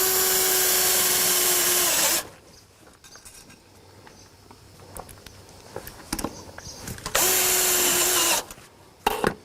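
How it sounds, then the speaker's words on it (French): A power drill drives screws to fix a spacer onto a Terrassteel steel terrace support frame for ceramic slab decking, with two loud sustained whirring bursts close by and handling knocks and rustling in between. "Et je vais le visser, le maintenir par deux vis."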